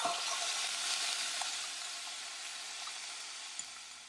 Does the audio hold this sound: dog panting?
no